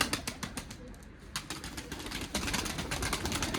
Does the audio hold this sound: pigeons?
yes